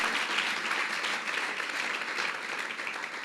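A church congregation applauds in sustained, dense clapping that fills the room evenly for several seconds without a break.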